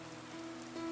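Rain falls steadily as a soft, even hiss with a faint low tone running beneath, no voices.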